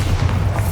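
A short, loud booming blast from a Bombarda explosion spell in the Hogwarts Legacy video game, a deep thud heard alone and close.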